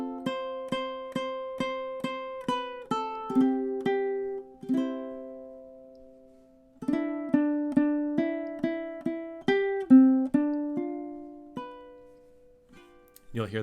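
A ukulele picks out the bridge, a run of plucked single notes and chords with a short pause midway, fairly quiet and close, no singing.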